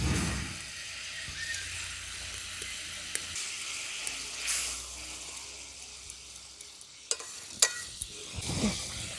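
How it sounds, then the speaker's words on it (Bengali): Fried puti fish slide into a boiling chili curry, followed by soft sizzling and occasional stirring clinks of a spoon against the pan, with quiet bubbling between the louder scrapes. "ঝোলটা আমাদের ফুটে গেছে, এরপর দিয়ে দিচ্ছি ভেজে রাখা মাছগুলো।"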